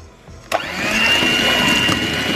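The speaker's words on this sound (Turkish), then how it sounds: "Artık mikserle işim bitti" An electric hand mixer switches on with a click and whirs steadily at high speed, close and loud, its motor whine holding constant.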